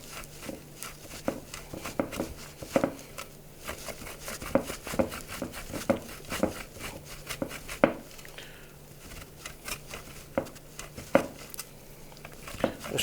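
A block of Parmesan rubbed against a hand grater makes soft, quiet scraping strokes in a steady rhythm, with faint clinks of metal and no talking.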